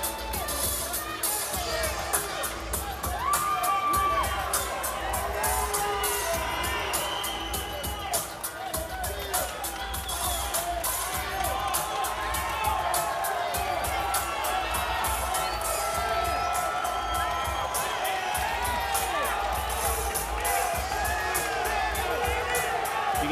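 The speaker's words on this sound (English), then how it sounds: "this raucous crowd that has packed one half of the Grand Garden Arena" A large raucous crowd packing half of the Grand Garden Arena roars and cheers at a boxing weigh-in face-off, a dense continuous hubbub with whoops and shouts rising through it, steady and loud throughout.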